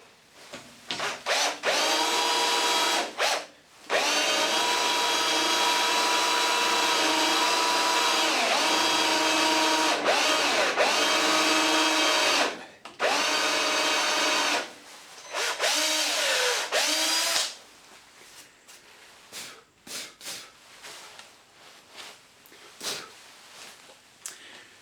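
A hole saw bores into wood, a loud sustained whine in long bursts with brief pauses between them, then trails off into lighter scraping and handling noises near the end.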